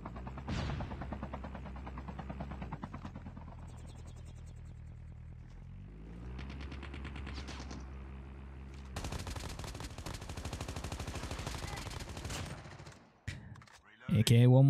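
Gunfire from a shooter video game, likely involving an AK-117 rifle, sounding as bursts and rapid automatic fire through a busy game soundscape with music-like tones, growing denser in the second half before a brief drop near the end.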